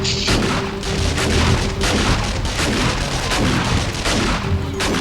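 Loud, dense booms and blasts pound continuously, like heavy gunfire and explosions in the game 7 Days to Die, with a faint tone running underneath.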